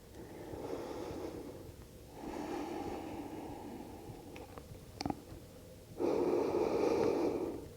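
Slow, deep breaths during a yoga practice, each long exhale rising as a close, airy rush and fading, with a brief nasal snort midway and a strong final exhale.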